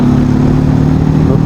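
A TVS Apache RTR 310 motorcycle pulls hard in high gear, its engine a loud, steady drone with rumbling low harmonics and wind noise, sustained and close throughout with no pauses.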